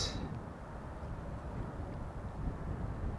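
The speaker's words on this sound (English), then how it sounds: "E2 Embraer 195 inbound from Birmingham. Leaning into the wind a little bit just before touching down" An Embraer 195-E2 airliner inbound from Birmingham touches down on runway 18R at Amsterdam Schiphol, leaning into a crosswind, heard as a steady low, distant roar with a faint hiss and no talking.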